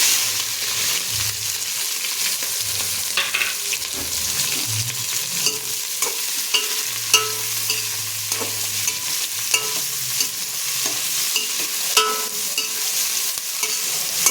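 Onions and green chillies frying in a home kitchen pan, a steady close sizzle with scattered crackles and pops, broken by occasional scraping and stirring knocks and a low hum in the background.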